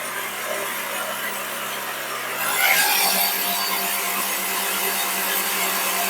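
An electric mixer whips butter cream for cake, running as a steady whirring drone that climbs to a louder, brighter whine partway through when the speed is raised, then holds there.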